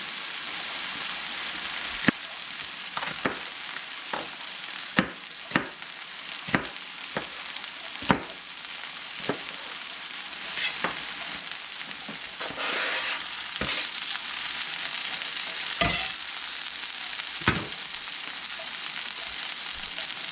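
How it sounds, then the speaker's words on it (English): Seasoned chicken, onions and peppers fry steadily in a pan, a continuous broad sizzle broken by scattered sharp pops and spatters, close and moderately loud with no talking. "The onions are starting to sweat up a little bit."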